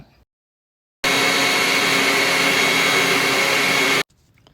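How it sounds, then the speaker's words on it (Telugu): A mixer grinder grinds chili powder with curry leaves and salt in a loud, steady whirring burst of about three seconds that starts and stops abruptly, with quiet before and after. "ఇంక ఈ కరివేపాకు కూడా కొంచెం చల్లారినాక అన్నీ కలిపి మిక్సీ చేయడమే అనమాట"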